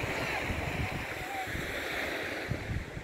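Ocean waves on an English beach under an overcast sky make a steady, soft wash of surf, mixed with wind buffeting the microphone and a faint background murmur.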